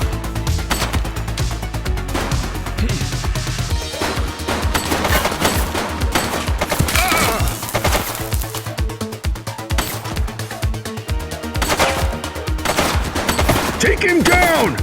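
Sustained automatic gunfire from a police shootout in The Precinct video game, loud and close, with rapid machine-gun-style bursts running through the whole stretch and short voice callouts mixed in.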